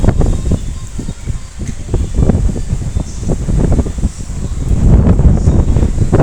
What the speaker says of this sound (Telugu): చూడండి చల్లటి గాలులు